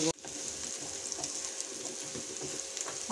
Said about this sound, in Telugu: పచ్చిమిర్చి ఫ్రై అయిన తర్వాత ఆనియన్స్ ఫ్రై అవ్వాలి.